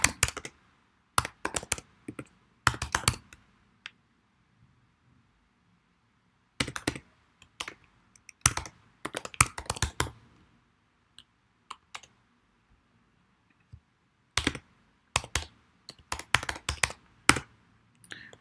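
Bursts of computer keyboard typing, quick clicky keystrokes in several clusters separated by pauses, close and fairly clear with no talk.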